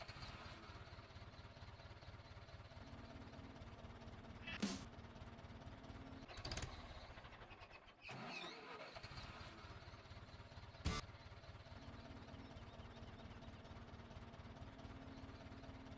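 A Rakovica 76 Super DV tractor engine in Farming Simulator 17 chugs at a steady idle, a low, even drone with a few sharp clicks over it.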